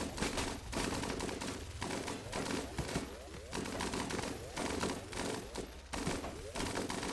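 Rapid gunfire volleys in a combat video game, loud repeated bursts of shots in a steady driving rhythm across the whole stretch, mixed with game sound.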